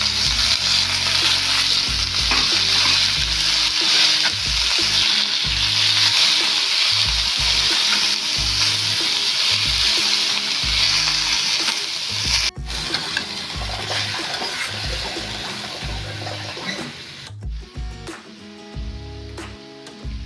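Carrots, beans and cut cabbage fry in a hot pan with a loud, continuous sizzle, broken by the scrape and clack of stirring and a couple of brief pauses.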